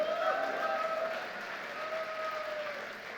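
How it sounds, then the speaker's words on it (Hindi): Audience applause at a company event for Rajdeep Dutta, heard as steady, moderately distant clapping that holds for about three seconds and then tapers slightly, with no speech over it. "तो राजदीप दत्ता सर के लिए जोरदार तालियां होनी चाहिए"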